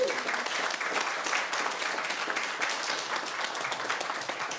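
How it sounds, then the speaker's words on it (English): Steady applause at a retirement ceremony, a room full of people clapping densely at an even level throughout. "Let's give Annette a round of applause."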